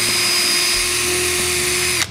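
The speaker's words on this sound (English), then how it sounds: "Drilling into a guitar, you really want to be doing this with a drill press." A power drill bores steadily into a bass guitar body, a loud continuous high whine with a strong steady pitch that holds for about two seconds, then cuts off as the drill stops.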